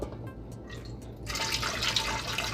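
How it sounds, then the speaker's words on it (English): A cup of water mixed with honey is poured into keto cinnamon roll dough, a short liquid splash and trickle that swells loudly after a quiet moment. "then we're gonna add the cup of water and honey"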